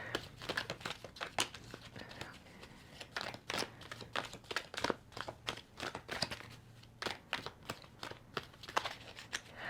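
Tarot cards being shuffled and drawn by hand during a card reading, a steady run of quick close papery crinkles, snaps and flicks with no talking.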